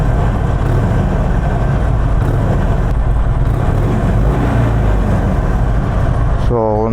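Warmed-up motorcycle idling nearby, a loud, steady low engine and exhaust rumble that holds throughout with a brief tonal sweep near the end.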